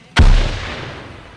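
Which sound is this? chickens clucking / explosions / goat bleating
explosions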